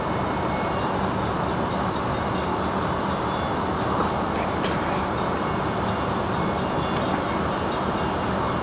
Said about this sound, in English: Sounds like the locomotive is maybe a quarter mile away to the east.